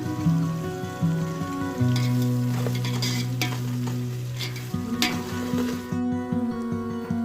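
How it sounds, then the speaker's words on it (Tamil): Ginger garlic paste sautés in a hot pan for mutton gravy. A close, steady sizzle carries irregular stirring scrapes, with sustained musical tones playing underneath and no voices. "இஞ்சி பூண்டு பேஸ்ட் போட்டு நல்லா வதக்கிறேன்"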